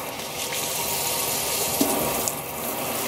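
Tap water runs steadily into a sink during handwashing, a continuous close hiss and splash with a couple of brief knocks as hands move under the stream, no talking.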